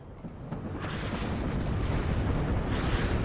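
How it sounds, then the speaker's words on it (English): Artillery fire rumbles continuously in the real-time strategy game WARNO, a dense, sustained roar of distant and mid-range blasts with no pauses, loud and unbroken across the whole stretch. "Constant stream of artillery from both sides now."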